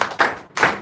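Students in a Sabbath gospel class clap for a classmate in two short bursts separated by a brief pause, close and fairly loud in a small room.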